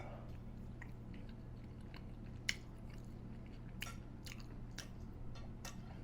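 Close, quiet chewing of luncheon loaf with ketchup, soft wet squishes and a few sharp crunchy bites spaced irregularly over a low steady background hum.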